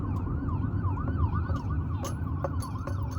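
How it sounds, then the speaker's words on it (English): An ambulance siren wails in a rapid rising-and-falling pattern, steady and moderately distant, over low traffic rumble. "I hear sirens."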